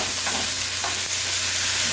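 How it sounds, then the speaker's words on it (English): A steady, hissing sizzle of leftover water from washed string beans in a hot frying pan, constant and close, with a faint scrape midway. "The residual water in the pan is the sort of sizzle that you're hearing."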